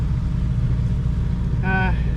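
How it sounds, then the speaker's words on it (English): A sailboat's engine runs at anchor, charging the batteries, a steady low rumble throughout with a brief tonal whine near the end. "very shortly I'm just going to turn this engine off"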